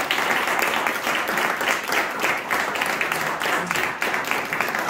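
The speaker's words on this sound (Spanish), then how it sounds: "Más fuerte el aplauso para Héctor Méndez." Steady, dense applause from a concert audience after a piano and cello performance, sustained and fairly loud throughout with no talking over it.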